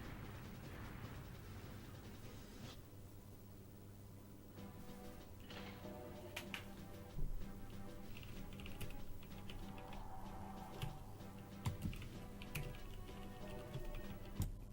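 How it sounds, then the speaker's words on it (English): Fast typing on a computer keyboard, heard as quiet rapid clicks and clacks in dense bursts over a low background hum, with a few sharper taps standing out. "that's when he's typing the storm, baby"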